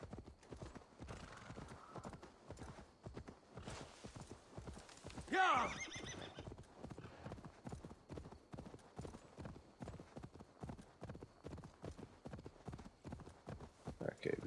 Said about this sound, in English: Summon up my horsey.